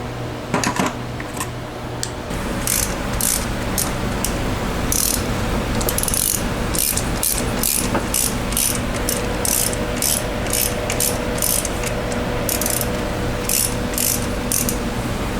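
A ratchet socket wrench clicks in rapid bursts while working on a car engine with a failed valvetrain, a 408, the pawl chatter close and loud over steady background hum and clatter.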